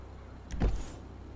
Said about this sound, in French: On va ouvrir toutes les portes.